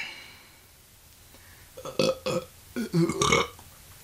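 A loud, close burp in several croaky, voiced pulses that rise and fall over about two seconds, heard alone after a quiet stretch.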